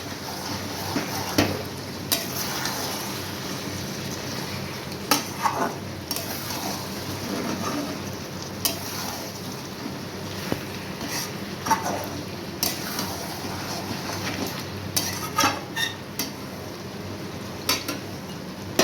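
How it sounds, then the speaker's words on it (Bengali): Mutton being stirred in a pot for a Bengali-style curry, with steady background sizzling and repeated scrapes and clinks of a utensil against the pot, moderately close and with no talking. "এবার ঢাকাটা খুলে আরেকবার নাড়িয়ে নেব।"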